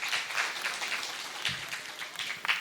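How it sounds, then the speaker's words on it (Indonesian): An audience at a humanitarian foundation gathering claps, a short, fairly faint patter of many hands heard from a distance. "Terima kasih dan tepuk tangan untuk teman-teman semua."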